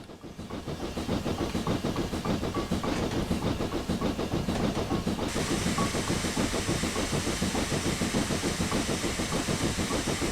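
Steam locomotive in Railworks 3 working uphill on the Elsecar Heritage Railway, its chuffing exhaust beating in a steady rapid rhythm with constant hissing steam, loud and close throughout, no talking.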